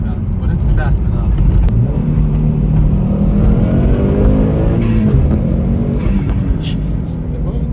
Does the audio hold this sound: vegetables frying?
no